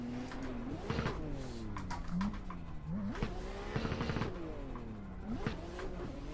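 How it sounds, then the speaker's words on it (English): A loud Inertia Irish Pro race car engine in a racing video game, revving up and down through gear changes with rising whines and repeated shifts, steady and close with no talk. "Oh man, this car is loud."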